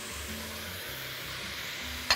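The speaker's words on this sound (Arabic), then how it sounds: "الحلة عندي سخنة وكل الخضروات عندي مشوية فهحطها كلها مع بعض" Roasted peppers, onion, carrot and garlic tipped together into a hot pot for soup, a soft steady sizzle with low shuffling as the pieces settle, ending in a brief sharp clink near the end, close and fairly quiet.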